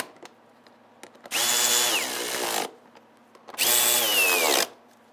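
A power tool runs in two bursts of about a second each, whirring up and winding down while it snugs fender liner fasteners on a 2011-2019 Ford Explorer, with faint clicks in the quiet gaps.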